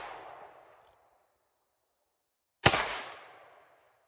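Two gunshots fired at steel targets outdoors, each a sharp loud crack with a trailing echo, the first fading at the start and the second sounding alone after a quiet gap.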